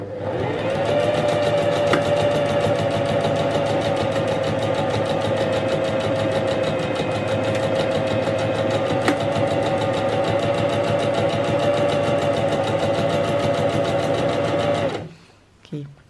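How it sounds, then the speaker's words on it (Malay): A Singer 5523 sewing machine runs steadily while stitching a buttonhole, giving a loud, continuous mechanical whir with a rapid needle rhythm for about fifteen seconds before stopping abruptly. "turunkan jarum dan tekan tekan pedal untuk jahit"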